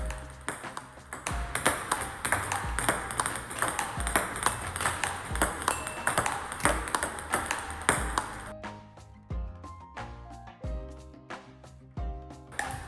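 A table tennis ball strikes the racket in a steady run of forehand strokes, crisp pings about twice a second, close and clear. Background music plays under the first two-thirds, and the later hits ring out more sharply in near quiet.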